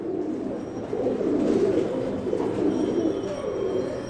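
A fresh red Mookee pigeon, a short fancy breed, coos softly and close by in repeated low, throaty rolls, with no talking.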